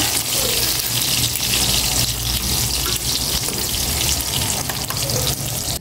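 Loud, continuous sizzling of food frying in hot oil, a dense steady crackle close by with no talking.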